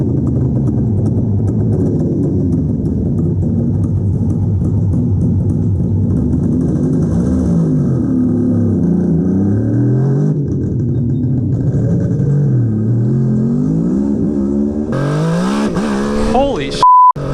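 A Suzuki GT550 two-stroke triple motorcycle is ridden, its engine droning steadily with rising and falling pitch as it revs through gears, loud and close throughout, and a short beep near the end.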